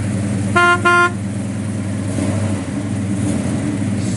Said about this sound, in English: This thing just thumps out the exhaust. Sounds really tough.